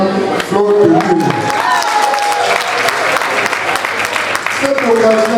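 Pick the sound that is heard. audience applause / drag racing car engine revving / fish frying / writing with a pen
audience applause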